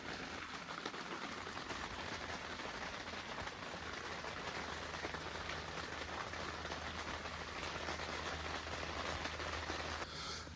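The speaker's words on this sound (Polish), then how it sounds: "Dźwięki kropli, które obijają się o namiot." Rain pattering steadily on a tent during a night on a frozen lake, dense soft drumming of countless drops heard from inside, constant and fairly quiet with no talking.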